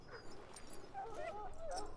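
A dog in Dragon Age: Origins whimpers in a few thin, wavering whines, close and moderately loud, with faint background sounds.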